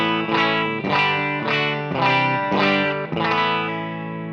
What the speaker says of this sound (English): So this is the Fender Princeton model.